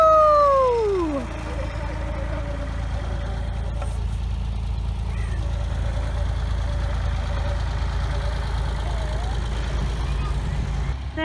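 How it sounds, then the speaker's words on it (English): A tractor at a rare breeds farm park rumbles past with a steady low engine drone, moderately loud and close, while a brief sliding whistle-like tone sounds at the start. "There goes the tractor."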